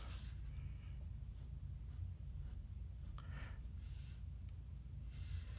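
A pencil draws on paper in short, soft scratching strokes over a low steady hum, faint and close, repeating in quick irregular bursts.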